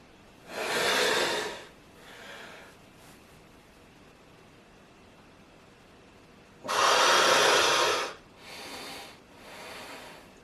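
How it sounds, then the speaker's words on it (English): Two deep breaths taken during a standing neck and shoulder mobility exercise, each a long, fairly close rush of air, with a couple of softer exhales in between and a quiet room. "So, taking a deep breath first."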